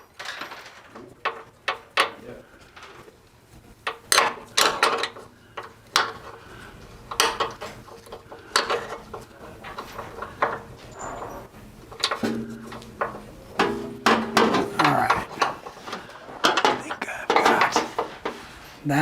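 A wrench clanks and clicks in sharp metallic taps while installing corner guards on a Jeep JL, with intermittent talk between the strikes.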